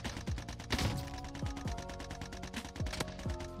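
Rapid automatic gunfire from the video game Call of Duty Warzone crackles in a dense, evenly spaced burst of sharp shots, steady and fairly close throughout.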